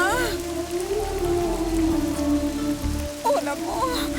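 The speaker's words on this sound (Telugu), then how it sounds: "వర్షం మొదలైంది" Rain falling in a comedy serial scene: a steady, close wash of rain with a low hum beneath it and a brief voice near the end.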